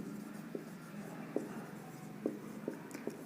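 Chalk or marker writing on a board during a Hindi mathematics lesson on probability, heard as a steady soft scratching with several short, sharper taps and strokes spaced irregularly, with no talking.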